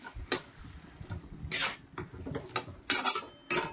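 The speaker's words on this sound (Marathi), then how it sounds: "आणि मस्त आता पूर्ण परतून घ्यायची आहे" Metal spatula stirring a potato and lentil stuffing for capsicum in a kadai over high gas, giving several close, sharp scrapes and clinks against the pan at irregular intervals, with no voices.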